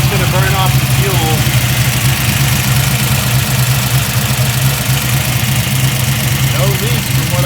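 A barn-find car's engine idles steadily and loud, with a low, even rumble and slight knocking that holds for the whole stretch while a person talks over it.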